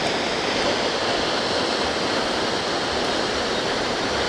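Quetzalapan waterfall roars in a dense, continuous wash of falling water, loud and close, with no other sounds over it.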